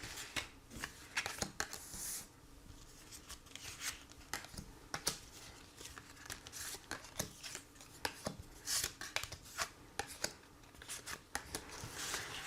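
Tarot cards being shuffled for a reading, a quiet, close run of repeated papery riffles and soft slaps in an irregular rhythm, with no talking over it.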